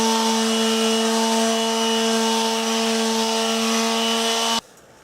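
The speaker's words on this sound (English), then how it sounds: "just put a bunch of shavings down on the lathe bed and go at" Steady abrasive rubbing of wood spinning on a lathe against a pad of wood shavings, continuous and close with a high whirring tone, cutting off abruptly near the end to near silence.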